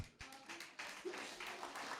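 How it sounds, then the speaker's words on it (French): A church congregation claps during a French-language worship service, a short burst of scattered hand claps and taps with faint background voices. "Oui, vous pouvez applaudir le Seigneur."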